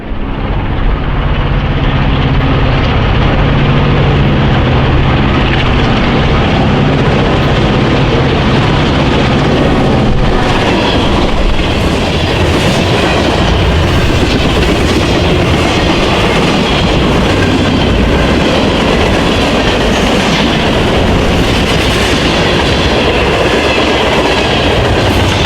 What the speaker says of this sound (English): AF3 ran at track speed with an ex-Iowa Interstate SD38-2, number 804,